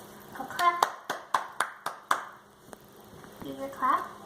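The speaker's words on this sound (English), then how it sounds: "Can you clap for Daddy? Go clap." A baby claps small hands a handful of times in a steady, soft series of taps close by, while an adult voice and baby sounds come in around the claps.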